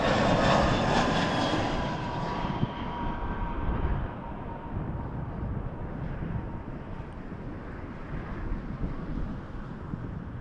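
A Delta airliner approaches and lands at Toronto Pearson, a loud broad jet roar that starts strong and slowly fades and settles into a steady rumble with wind noise.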